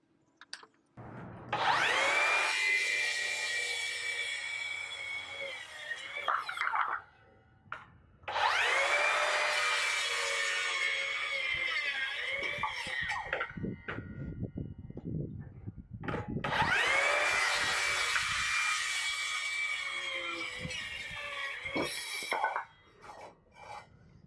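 A Makita 36V cordless circular saw cuts through wood in three long, loud passes, each a steady high whine lasting several seconds, with brief pauses and lighter handling noise between them.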